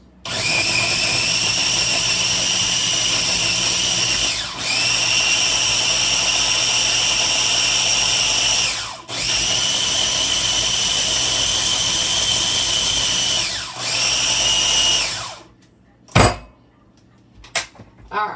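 Blender pulsing a jalapeno avocado dressing: three long loud whirring runs with brief dips between, cutting off before a few short knocks and clatter near the end.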